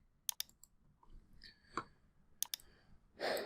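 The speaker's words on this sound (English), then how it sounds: "I'm going to click on that." A computer mouse clicks a few times during work in a graphics program, giving sharp, faint ticks scattered through a quiet room.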